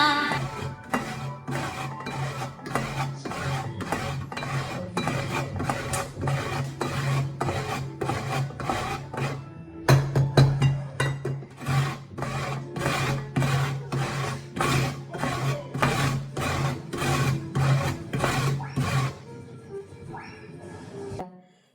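An ingredient for watalappan is crumbled into powder, producing a fast, even rasping and rubbing rhythm close by that runs steadily for about nineteen seconds and then stops.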